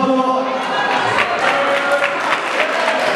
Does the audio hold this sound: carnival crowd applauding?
yes